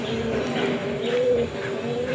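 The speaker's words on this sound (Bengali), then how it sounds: "এই হচ্ছে মাদি পায়রাটা" A female pigeon gives a soft, steady coo nearby, with a slightly stronger, drawn-out note near the middle and faint background noise throughout.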